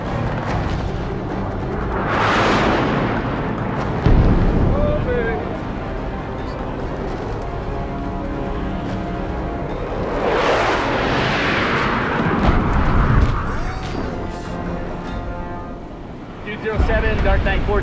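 Aircraft bombs detonating on a Taliban target during a US military engagement in Afghanistan, two heavy rumbling blasts about eight seconds apart with rolling low roar, mixed with wind and radio chatter.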